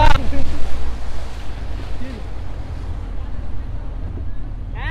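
A speedboat sets off across the Tanguar Haor wetland, with a continuous rush of water and wind buffeting the microphone over a low engine rumble and a brief voice at the start.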